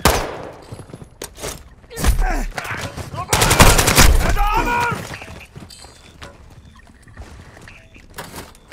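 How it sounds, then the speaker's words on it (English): Gunfire in a Call of Duty game, heard as scattered sharp cracks and bursts with a dense volley in the middle, while radio-style voices speak over the action. "Taking effective fire."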